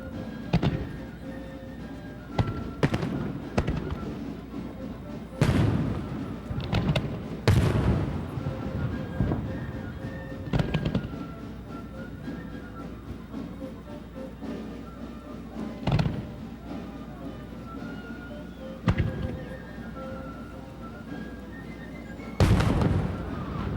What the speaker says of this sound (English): these fireworks had to survive last night's downpour out here and a little bit of light rain again today